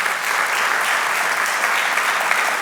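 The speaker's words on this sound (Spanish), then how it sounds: "¿No le quieres dar un aplauso a Jesús por eso?" A church congregation applauds for Jesus in a loud, dense, continuous wash of many hands clapping at once, steady from start to finish with no breaks.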